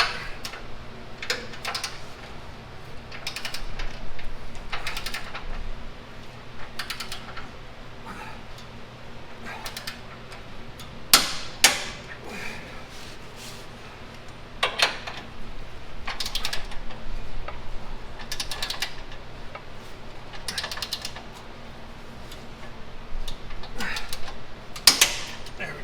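Large bolts being tightened to torque while a 2-inch leveling kit goes onto a 2022 Toyota Tacoma: scattered ratchet clicks and sharp mechanical ticks come and go over a steady low background, with a few louder knocks.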